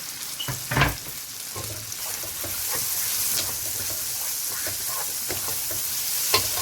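Onion and Scotch bonnet pepper fry in a pan for a seafood linguine stir fry, giving a steady, soft sizzle and hiss with a few light clinks and taps. No one speaks.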